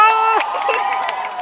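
Pep rally crowd at Cherryville High cheering and shouting after an award announcement, loud and close, with a voice over the noise.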